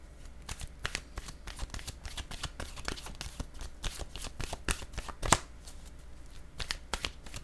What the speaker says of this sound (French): Je vais maintenant choisir une carte de mon oracle de l'âme intuitive